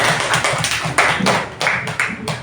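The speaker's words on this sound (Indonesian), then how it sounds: "saya kira tepuk tangan dulu" A classroom of students claps together in quick rhythmic bursts with short pauses between groups of claps, close and loud, with voices chanting along underneath.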